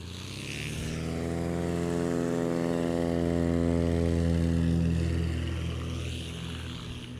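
A polished Cessna 180 with maroon burgundy trim takes off. Its propeller engine drones with a strong harmonic buzz, building in loudness as the plane passes nearby, then fading slightly.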